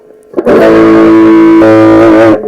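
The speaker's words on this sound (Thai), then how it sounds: "ผมชอบเล่นเสียงแตก ที่ไม่มี EQ นะ" Distorted electric guitar played through a Marshall 8010 amplifier with the EQ switched off: a thick, sustained overdriven chord rings out loud and steady for about two seconds, then shifts once and cuts off, with no talking.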